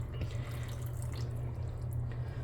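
Broth pours steadily into a canning jar packed with homemade breakfast sausage patties, a soft continuous trickle over a low hum, with no voices.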